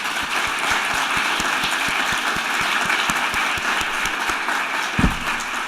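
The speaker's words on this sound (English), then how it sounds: "Can we give a round of applause to everybody that..." Sustained audience applause at a university teaching awards ceremony, a dense, even wash of clapping from a large crowd with distinct individual claps near by and a brief thump toward the end.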